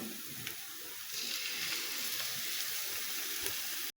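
Egg and vegetables frying in a pan, ahead of tomato sauce and chicken for noodles, a steady hissing sizzle that grows louder after a second and runs on evenly until it stops abruptly.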